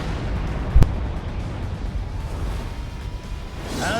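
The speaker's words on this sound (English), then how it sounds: "And here's his soul bomb." Ichigo's soul bomb special attack in a Bleach video game: one sharp explosive burst near the start, then a lingering rumbling wash that fades into a faint whoosh.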